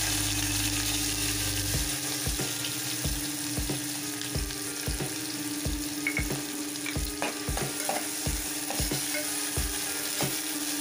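Green chillies and chopped onion frying in hot oil in a pan, a steady bright sizzle with regular scraping stirs knocking in a repeated rhythm, close and alone with no talk.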